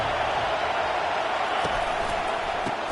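Stadium crowd at an LSU college football game, a steady loud roar of cheering and noise filling the whole span with no pauses.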